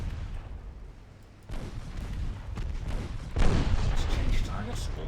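Warship secondary guns pound a light cruiser in Ultimate Admiral Dreadnoughts, a series of loud booming volleys with a heavier surge partway through, while someone talks over the gunfire.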